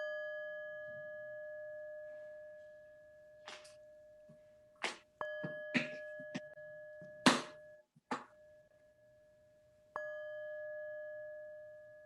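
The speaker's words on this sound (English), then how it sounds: "I'm going to sound the bell 3 times." A worship bell rings with clear sustained tones that hang and overlap, struck several times at a slow, measured pace in a quiet room, with some brief softer knocks between strikes.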